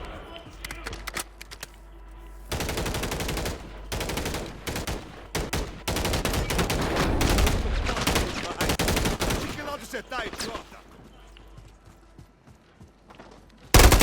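In the Warzone video game, bursts of rapid gunfire crackle in dense, loud clusters, easing into scattered, fainter shots before a final sharp blast.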